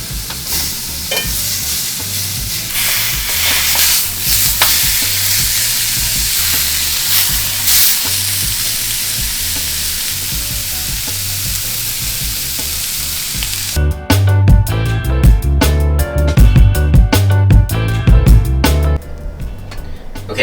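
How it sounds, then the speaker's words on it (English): Chicken sears in a hot pan with a loud, continuous sizzle. In the later seconds, sharper clatters and scraping from stirring and moving the pieces break through the hiss. "You don't want to cook it, you just want to sear it"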